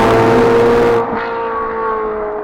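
Ferrari 458 Speciale Aperta, a convertible with its top down, its engine holding a loud steady tone that drops off abruptly partway through, then settles into a softer, lower drone.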